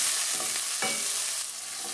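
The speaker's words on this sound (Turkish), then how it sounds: "Isınan yağın içerisine biberlerimi ilave ediyorum." Hot sivri peppers fry in heated oil in a pan, a steady close sizzle with a few stirring scrapes, and no voices.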